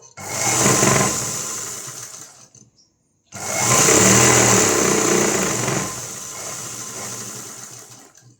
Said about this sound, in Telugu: ఒక కుట్టు అయితే ఇలా స్టిచ్చింగ్ చేయాలి